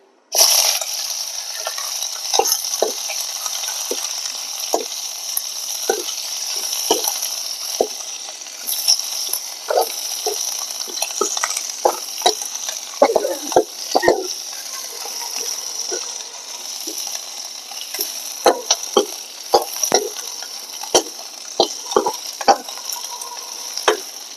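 Chopped onion and green chili frying in oil for a curd sabji, with a steady close sizzle and repeated short scrapes and clicks of a spoon stirring the pan, no talking.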